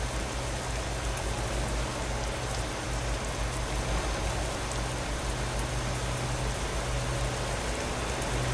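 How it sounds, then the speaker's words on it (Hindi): Steady, dense rainfall pattering continuously on a surface, loud and close, heard from a Scania S540 truck, with a low rumble underneath and no voices. "ओ बारिश चालू हो गई गाइस।"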